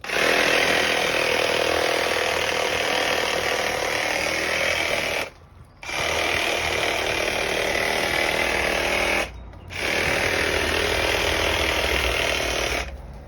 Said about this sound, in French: C'est une scie qui va rester que pour couper des racines ou des trucs comme ça.